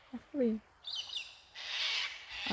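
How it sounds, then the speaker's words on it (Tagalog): A kookaburra cackles in a loud, raucous call with rising and falling squawks, plus some chattering notes nearby, in Australian bush. "Maingay talaga yung kukubara na ibon."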